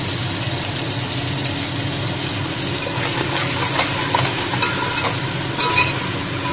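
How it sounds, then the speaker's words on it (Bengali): Eggs and potatoes stir-fry in a kadai with onion paste and ginger-garlic paste, sizzling steadily and close up while a spatula scrapes and stirs in irregular strokes. "এবার হচ্ছে কড়াইতে দিয়ে দেবো এই যে পেঁয়াজ বাটা, আদা রসুন বাটা দিয়ে ডিম আর আলুটাকে ভালো করে কষিয়ে নেব।"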